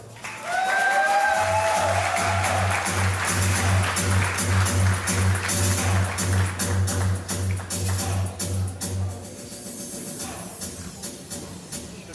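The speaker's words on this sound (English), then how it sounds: "could you please help me welcome with a warm round of applause Kieran and Jashan" Guests at a wedding reception applauding after a welcome announcement, steady clapping that swells and then tapers off, with a low humming tone and faint crowd murmur underneath, fairly close.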